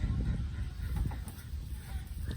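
Farm ducks quack in a muddled, low, busy chorus, close by and fairly steady, mixed with rough background noise.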